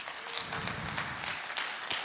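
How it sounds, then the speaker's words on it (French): Audience applause closing a regional labour-administration (DREETS) conference in France, a steady dense clatter of many hands clapping, moderately loud and continuous throughout with no talk over it. "j'aimerais, s'il vous plaît, vos applaudissements pour nos deux chefs d'orchestre de cette journée"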